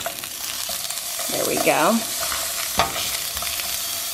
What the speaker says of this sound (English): I think it's time to flip my little patty there.